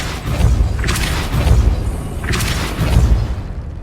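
A magic spell, Depulso, fires repeatedly in the video game Hogwarts Legacy, giving three deep booming blasts with bright bursty tails, spaced about a second apart over low game rumble.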